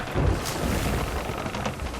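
Steady rain with a low rumbling thunderstorm in the pirate sailing game Sea of Thieves, a continuous dense wash of noise with deep rolling bass running throughout.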